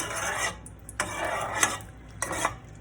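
Beans fry in a pan for frijoles fritos with a soft, constant sizzle, broken by three scraping strokes of a utensil across the pan.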